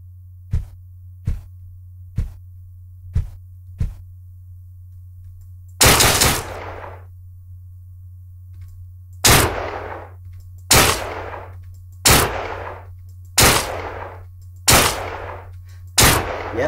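Gunfire in the video game Deadbolt: five sharp single shots at a steady pace, then a brief pause and a run of heavier, booming blasts with short echoing tails, loud and close over a low steady hum, no voices.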